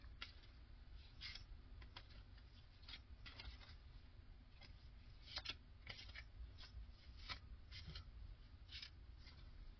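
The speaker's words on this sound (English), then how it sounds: "So first, I have to shuffle the deck." Quiet, rapid riffling and soft patter of cards being shuffled, in repeated short bursts, close but faint, with no one speaking.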